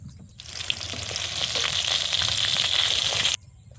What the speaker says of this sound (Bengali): মাছটা লাল লাল করে কড়া করে ভেজে নেব।